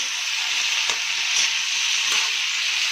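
Masala with onion fries in a pan for butter paneer, a steady bright sizzle with a few soft scrapes of stirring, close and without talk.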